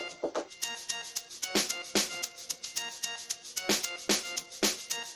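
Amapiano drum loop programmed in FL Studio Mobile: punchy kicks, bright hi-hats and snappy percussion hits in a steady syncopated groove, loud and alone with no voice over it.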